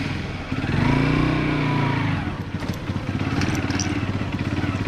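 A motorcycle engine revs loudly up close, then settles into a rough, chugging idle with clattering over uneven, partly wet off-road ground near Siddheshwar Waterfall, Alibaug.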